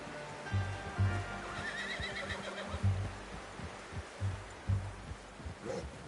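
A horse in Red Dead Redemption 2 gives a clear whinny in the middle of the clip, surrounded by soft thudding hoof or footstep sounds and quiet outdoor ambience.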